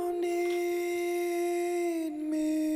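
Vocal run through a Valhalla Vintage Verb reverb send with low and high ends trimmed, a sustained sung note with a long ambient tail, steady and close with a brief dip near the end.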